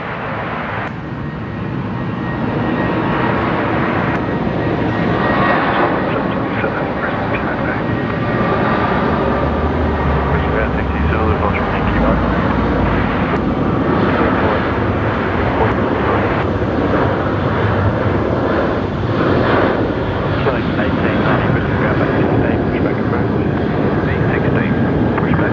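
Qantas airliner departing Brisbane Airport at night, a loud, sustained engine roar building and holding steady over the whole stretch, with people talking alongside.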